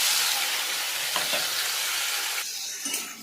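Whole cumin seeds, onion and potato hit hot oil with a loud, dense sizzle that softens into steady frying, broken by a couple of stirring scrapes, close with no talking.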